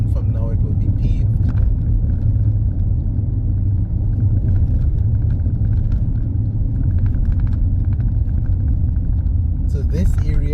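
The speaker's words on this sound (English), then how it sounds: "All the asphalt was removed, and it's giving a bit of a rough ride here" A car rolls along a rough road in Barbados where the asphalt has been stripped away, with a loud, continuous rumble of tyres and engine and occasional clattering bumps.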